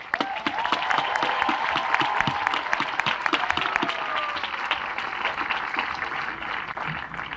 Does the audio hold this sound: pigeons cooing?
no